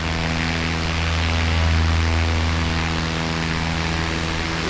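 A propeller aircraft drones steadily on a night flight in Microsoft Flight Simulator 2024, played on PS5. The engine hum is constant and fairly loud with a low tonal buzz and a noisy wash above it, with no talking.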